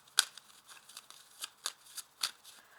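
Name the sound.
handling and laying out oracle cards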